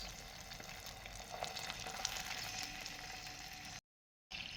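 Chicken satay sizzles gently in oil with garlic, tomato sauce and soy sauce in a pan, a faint continuous frying hiss with soft stirring, cut briefly by a moment of silence near the end.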